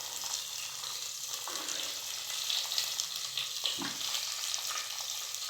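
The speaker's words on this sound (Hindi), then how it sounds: "मसाला रेडी होने के बाद हमें इसमें टमाटर को फ्राई करने के लिए डालना है 1 बाय 1" Tomatoes fry in hot masala with a constant bright sizzle and crackle, close and loud, with occasional soft stirring knocks and no talk.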